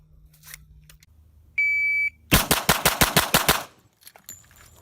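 A shot timer beep, then a rapid string of about eight to nine loud, close .45 ACP shots from a Glock 41 pistol during a handgun drill, evenly spaced and cracking sharply.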